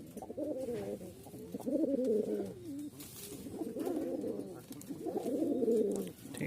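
Giribaz pigeons coo nearby in repeated soft, throaty, rolling phrases with brief pauses between them.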